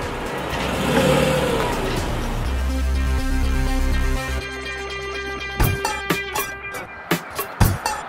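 A Mercedes-Benz S400 Hybrid car on a test drive runs with a loud engine and road roar at first, which drops to a quieter whir, and then several sharp thumps and clicks follow near the end.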